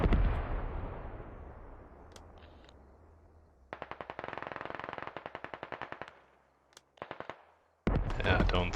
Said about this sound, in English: We got artillery in lower.